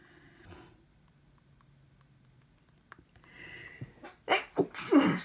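A person gives one sharp sneeze after quiet breathing and a few small rustles. A short, close burst of exhaled noise and a couple of breathy aftershocks follow it.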